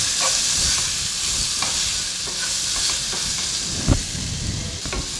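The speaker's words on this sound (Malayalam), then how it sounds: "ഇനി നമുക്കിതിലേക്ക് അരിഞ്ഞു വെച്ചിട്ടുള്ള തക്കാളി കൂടി ചേർത്ത് കൊടുക്കാം. ഇനി നന്നായിട്ടൊന്ന് വഴറ്റി കൊടുക്കാം." Chopped tomatoes sautéing in a pan for chana masala, a steady close sizzle and frying hiss broken by scraping stirs and a sharp clack of the spoon near the four-second mark.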